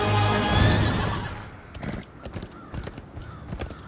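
A horse neighs in the video game Heroes of the Storm, a loud whinny at the start followed by scattered clattering game effects and faint noise.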